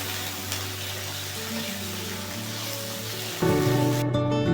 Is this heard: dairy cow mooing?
no